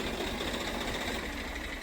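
A Swaraj tractor fitted with a Kirloskar engine runs with a steady, loud, close diesel drone and a rough, knocking chug throughout, with no voices.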